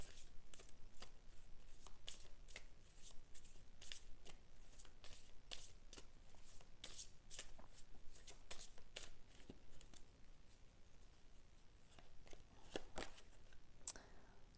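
Oracle cards being shuffled by hand, a steady run of quick crisp riffles and soft slaps that carry on close up and fairly quiet with no talking.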